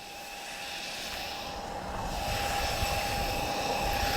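Supermarine Spitfire R232 passing at an airshow in Portugal, a steady engine drone that swells slightly louder midway and holds, heard from a distance without talk.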